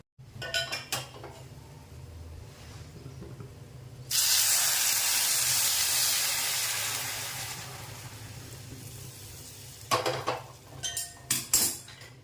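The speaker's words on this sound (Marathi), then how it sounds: "यामध्ये आता मी हे दूध टाकते" Milk poured into a pan for vermicelli kheer, a loud rushing pour that runs for several seconds, close, between clinks and scrapes of utensils against the pan before and after.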